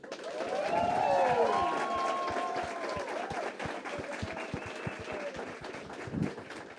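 An audience applauds to welcome a speaker onto a stage at a business event, a steady crowd of claps that swells and then fades, with a voice speaking over it.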